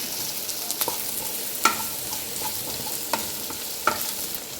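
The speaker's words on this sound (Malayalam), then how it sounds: "ഇനി നമുക്ക് ക്യാപ്സിക്കം ഇടാം. ഇതൊന്ന് നന്നായിട്ട് മിക്സ് ചെയ്യാം." Onion and capsicum frying in a pan for chilli chicken, with a steady low sizzle and occasional sharp clacks of a spoon stirring and scraping the pan, with no one talking.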